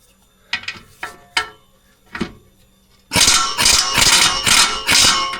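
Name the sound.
socket wrench loosening a bolt on Hyundai Tucson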